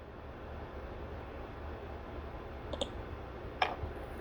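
A computer mouse gives a couple of faint, sharp clicks, isolated and spaced apart, over a steady background hiss.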